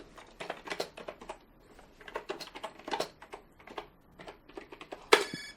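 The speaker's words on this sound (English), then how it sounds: "This keyboard, by the way, is absolutely terrible." Fingers type on a cheap, poorly made computer keyboard in quick irregular bursts of clicky keystrokes, close and fairly soft, with brief pauses between runs.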